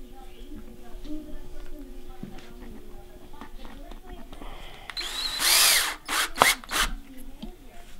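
Power drill driving screws into wood, with a short loud whir burst followed by a few brief pulses; someone talks before it.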